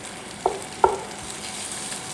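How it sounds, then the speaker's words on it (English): Tenderloin stir-frying in a pan gives a steady sizzle, with two sharp clacks of a utensil against the pan early on, close and alone without talk. "This is good for sauteing, stir frying."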